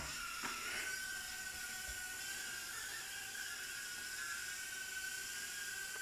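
Eachine E010 micro quadcopter drone in flight, a thin high-pitched whine of tiny propellers and motors that holds steady and wavers slightly in pitch, faint and continuous.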